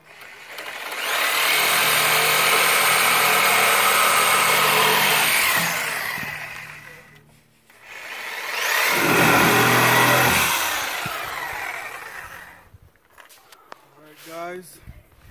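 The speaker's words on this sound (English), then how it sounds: "I'm gonna go ahead and crank up the sawzall and get the cutting" A sawzall reciprocating saw cutting material for a goat hay feeder, loud and close, running in two long bursts with a pause between, then winding down into quieter handling noises.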